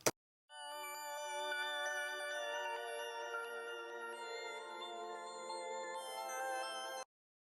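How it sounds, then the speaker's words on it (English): A bright synthesized bell tone rings out with shimmering overtones, sustaining steadily for several seconds before cutting off abruptly; a brief click precedes it. "And then there's this bell one."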